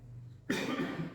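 A single abrupt cough bursts out close to the microphone after a moment of quiet room tone.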